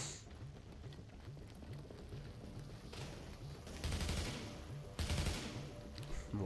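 Gunfire in the video game The Division, with bursts of rapid shots rising over a dense, continuous game soundscape and heavier volleys near the end.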